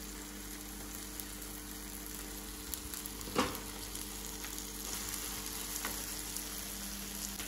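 Onion, capsicum and paneer, already fried in oil, sizzle steadily in a kadai masala, a soft continuous frying hiss with a single brief stir clatter near the middle and no talking.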